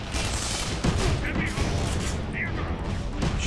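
Rapid gunfire in the Tribes Ascend video game, a dense, continuous barrage of shots with booming impacts throughout, loud and close, under excited talk from players.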